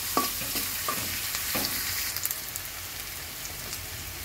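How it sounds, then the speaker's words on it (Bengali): Garlic and onion frying in oil in a pan, a dense, even sizzle with a few sharp clinks and scrapes of stirring near the start, then a steady hiss to the end. "তেলের ভিতরে রসুন আর পেঁয়াজ দিয়েছি, হালকা করে ভেজে নেব"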